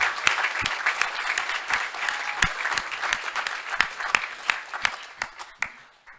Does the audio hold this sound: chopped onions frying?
no